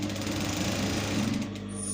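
Sewing machine stitching a fabric bonnet in a circular motion, a steady, close, continuous mechanical whir and rapid needle chatter with no break.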